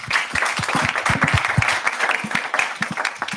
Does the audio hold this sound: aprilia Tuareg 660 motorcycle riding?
no